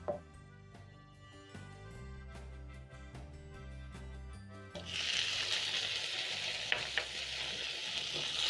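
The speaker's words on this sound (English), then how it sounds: "Saute the garlic for 1 minute, 30 seconds to 1 minute, until it's fragrant or until the raw garlic flavor is gone." Garlic sautés in a pan. Music plays with a steady beat for the first half, then a bright, loud sizzle swells up and continues with a few light stirring knocks near the end.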